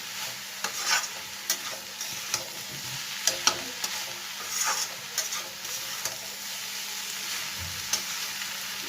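Egg noodles are tossed with vegetables and spices in a hot pan, giving a steady hiss of frying under repeated scraping and clicking strokes from the spatula.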